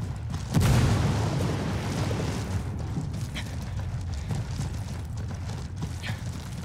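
Frag grenade explosion in Ghost Recon Wildlands, a heavy boom followed by a long, dense rumbling roar that fills the clip without pause.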